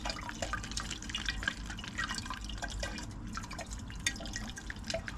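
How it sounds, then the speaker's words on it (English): A copper coil is rinsed with water after silver cementation. Water from a tap splashes and drips steadily and close by, with a busy continuous patter throughout. "I'm going to take the coil out, give it a quick rinse."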